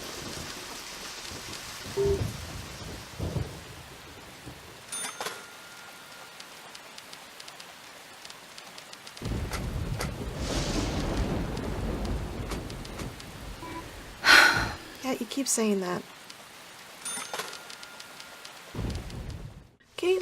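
Steady rain and thunder from the video game Deadly Premonition, with a continuous wash of rainfall and a heavy rumbling swell in the middle, broken by a few short game effects and a brief line of speech.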